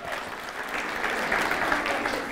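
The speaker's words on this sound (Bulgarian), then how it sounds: "Аплодисменти, защото аплодисменти." Steady applause from an audience at a QA event's closing ceremony, a continuous wash of many hands clapping throughout.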